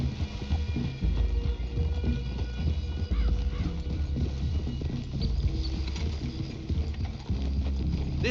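Steady clip-clopping horse hooves in the video game Red Dead Redemption 2, over a dense, busy background of music and ambience, continuous and fairly loud throughout.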